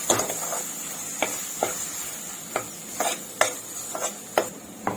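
Ground masala paste being stirred into cooking dried green peas, a quiet background sizzle punctuated by about ten separate spoon scrapes and knocks against the pot at an unhurried pace.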